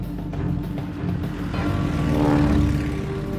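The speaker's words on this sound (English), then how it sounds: "12 scout bombers and 16 Hellcat fighters launch from USS Enterprise." WWII Hellcat fighters and scout bombers launch from the aircraft carrier USS Enterprise in the Philippine Sea, a loud propeller-engine roar swelling as a plane passes close, over a steady rumbling background.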